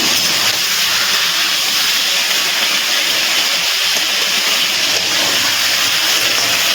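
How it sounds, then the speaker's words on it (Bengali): Chicken pieces lightly frying in oil on a high gas flame give off a loud, even sizzle and hiss that runs unbroken for several seconds. "গ্যাসের ফ্লেমটা হাইতে রেখে আমি কিন্তু চিকেনগুলো একটুখানি হালকা ভেজে নিচ্ছি"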